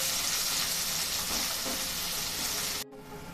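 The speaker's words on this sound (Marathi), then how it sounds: "सर्वात अगोदर आपण त्यावरती कांदा टाकून घेऊया आणि छान सोनेरी रंग येईपर्यंत आपण परतून घेऊया" Onion frying in hot oil in a pan for a dhaba-style prawn masala, a loud dense sizzle that holds steady before cutting abruptly near the end to a quieter hiss, with no talking.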